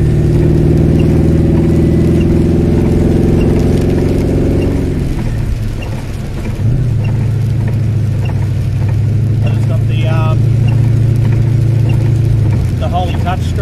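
A 1977 Ford Fairlane ZH with Holley Sniper EFI drives on a wet, rainy road, its engine droning loudly and shifting pitch as it accelerates, briefly easing off, then pulling again, with someone talking over it.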